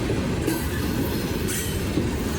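A BNSF freight train rolls past at close range in Bridgeport, Alabama, a loud steady rumble of wheels on rails with rhythmic clacking and brief squealing bursts.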